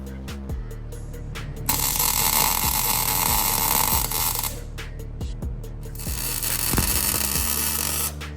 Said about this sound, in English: let's go ahead and get these welded on